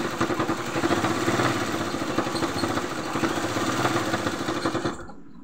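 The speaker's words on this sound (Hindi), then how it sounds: "और उस पर सिलाई चला दीजिए।" A sewing machine runs steadily, stitching over a length of twisted cord, its motor giving a continuous close whirring buzz with a fine rhythmic texture that cuts off near the end.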